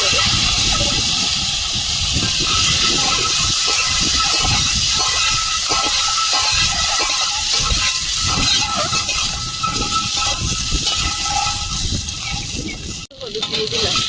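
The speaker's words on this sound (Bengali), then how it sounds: "তেলে ডিমগুলো ভেজে নেব।" Eggs frying in a pan of hot oil give a loud, steady hiss and crackle that runs without a break, with a brief clatter near the end.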